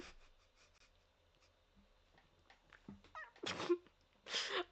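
A cat gives a few quiet, scattered vocalizations that build into two louder meows near the end, with soft rustling and breathing-like noises between them.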